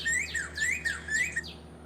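A bird at a beach calling in quick repeated rising squawky notes, about five in a row, fairly clear against a quiet background.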